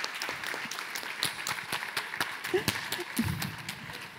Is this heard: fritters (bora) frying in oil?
no